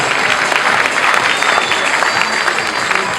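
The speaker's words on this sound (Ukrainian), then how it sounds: "Ваші оплески" A large audience applauds a student award winner at a university autumn arts festival results announcement, loud dense clapping that fills the room evenly, with crowd murmur beneath and no speech.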